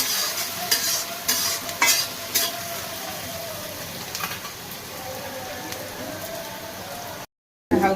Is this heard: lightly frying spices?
yes